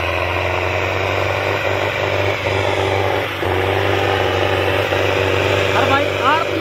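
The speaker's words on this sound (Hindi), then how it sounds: "ताकत बहुत गनी हो रही है ट्रैक्टर में।" A Sonalika 750 tractor engine works hard in a wet field, giving a steady, loud, low diesel drone with slight dips in load, while someone talks over it.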